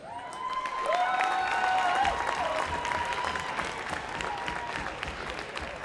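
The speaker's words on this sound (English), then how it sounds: "let us give one more round of applause to thank the family members of our Valor hockey team seniors" Crowd applause fills an ice hockey arena, a loud, sustained wash of clapping with some cheering and a whistle-like tone rising near the start before the clapping slowly settles.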